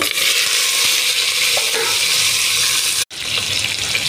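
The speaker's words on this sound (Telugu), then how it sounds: "ఇప్పుడు కట్ చేసుకున్న ముక్కలు వేస్తున్నా." Cut drumstick and vegetable pieces go into a pan of hot tempering with dried red chillies and curry leaves for drumstick sambar, giving a loud, steady sizzle with stirring that breaks briefly near the end.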